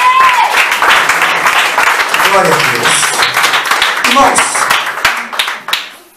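A church congregation claps hands in praise, loud dense clapping with rhythmic bursts that fade out, while someone speaks over it in a raised voice.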